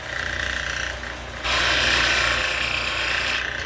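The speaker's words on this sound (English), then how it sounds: "I'm using the broad flat wing on this roughing gouge almost as you would use a skew chisel. And it's doing a nice planing cut." Roughing gouge making a planing cut on spinning wood on a lathe, a steady loud whirring rasp that swells sharply after a moment and stays constant, close up with no talking.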